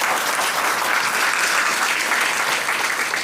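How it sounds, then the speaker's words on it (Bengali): A seated audience at a sales meeting claps loudly and continuously, a dense, even wash of applause with no voices over it. "একবার জোরদার হাততালি হয়েছে।"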